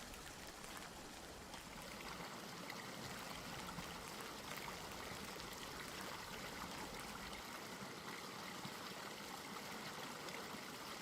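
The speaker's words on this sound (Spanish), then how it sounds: "Este es el río Duerna, un río modesto y discreto de tan solo 54 kilómetros de longitud" The Duerna, a small river in Spain, flows in a faint, steady wash of trickling water, continuous and distant throughout with no voices.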